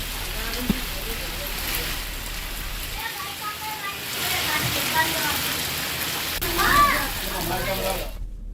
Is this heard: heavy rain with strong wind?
yes